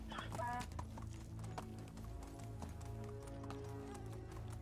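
A horse gallops in Medieval Dynasty, its hooves beating in a quick, rhythmic clip-clop that runs steadily throughout amid other game sounds.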